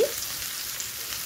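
Onions frying in a little oil rendered from fish belly, a close, even hiss and crackle with no talk.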